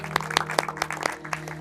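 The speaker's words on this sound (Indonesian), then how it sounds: "Tepuk tangan buat Tuhan." Scattered applause at a church youth film screening, a handful of separate claps in uneven rhythm over a steady low hum, fairly faint.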